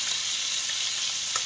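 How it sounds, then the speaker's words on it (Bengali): Chopped onion and tomato fry together in a pan with a steady, close sizzle and a faint stir near the end. "একসাথেই সব ভেজে নেওয়া হচ্ছে।"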